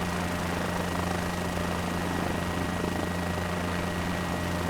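Helicopter in Microsoft Flight Simulator, a continuous loud rotor and engine drone with a steady low thrum and broad whooshing noise, unbroken throughout, no talking.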